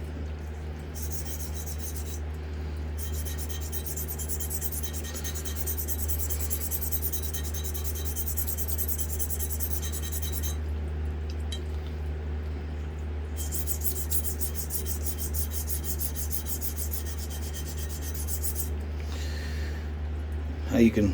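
A straight razor is honed to set its bevel on a sharpening stone, giving steady rasping strokes in long runs with short pauses, close and fairly even over a low background hum.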